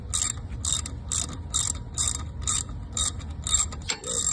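A ratchet wrench clicks in quick, regular bursts while tightening a 12 mm bolt on a Honda Del Sol brake caliper, about ten close, crisp ratcheting strokes in a row.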